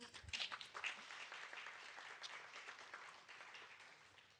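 A room of panel attendees breaks into applause for a speaker at an anniversary panel; a brisk burst of many hands clapping swells quickly, then gradually thins and fades over a few seconds.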